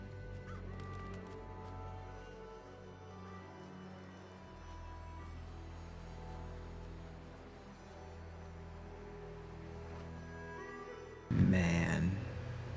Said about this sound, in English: Flock of crows, do ya?